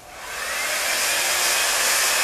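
A Mondial or Philco rotating hair brush switched on, its motor and airflow rising quickly into a loud, steady whooshing hiss heard close and alone.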